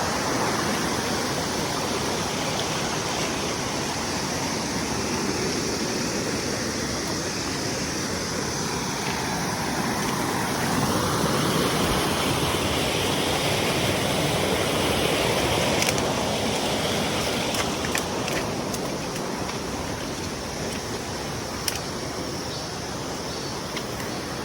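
A waterfall pours into a flowing stream at falls in Korea, a dense, steady rushing roar that stays loud and constant throughout with no talking.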